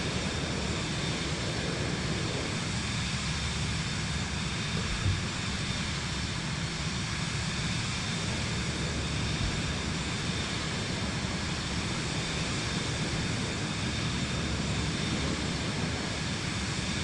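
A steady, unbroken engine drone from an aircraft in Microsoft Flight Simulator 2024 flying over California, a constant broadband roar with no change across the whole stretch.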